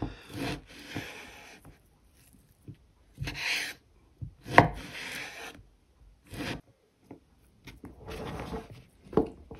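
A knife cuts cured pork for spaghetti carbonara, first in strips and then smaller, in a run of short scraping, rasping strokes on a board. The bursts come in uneven clusters and are moderately close, with quiet gaps between them.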